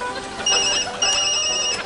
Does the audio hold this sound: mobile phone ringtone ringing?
yes